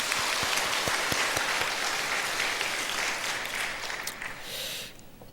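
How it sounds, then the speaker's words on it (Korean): A church congregation at an afternoon worship service applauds its church school teachers with dense, steady clapping that fills the room, then tapers off and fades out near the end. "박수 한 번만 좀 부탁드립니다"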